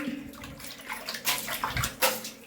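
Hot water poured into a bucket for a bath splashes in uneven surges and gushes, close by with no talk.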